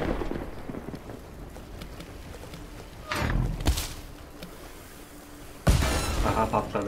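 Explosions in the Worms W.M.D video game, two loud booming bursts with rumbling tails over a low noisy background, the second striking sharply near the end.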